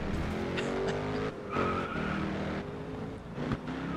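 Race cars in a GRID Autosport multiplayer race fishtail and skid, with engines droning and tires squealing in drawn-out wavering tones over a steady, fairly close roar, and no talking.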